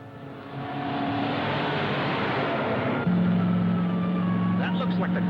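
A car drives past at a steady, fairly loud level, a broad engine and road roar with a sustained hum joining partway through and faint higher whines near the end; no one speaks over it.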